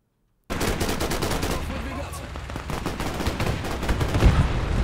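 Dense battlefield gunfire from the Men of War II video game, with rapid machine-gun bursts and rifle shots mixed with heavier mortar-like thumps, loud and continuous after a brief silent start.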